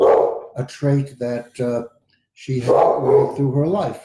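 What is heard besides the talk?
dog barking in the background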